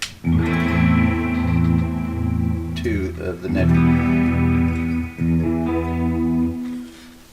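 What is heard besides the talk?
electric guitar with chorus effect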